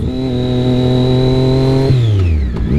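A motorcycle engine holds a steady, loud idle-like hum, then the revs drop and fall away sharply as the clutch is pulled in and the throttle closes for a downshift, with no talking.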